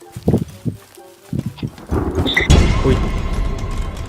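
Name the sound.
thunder in the video game The Forest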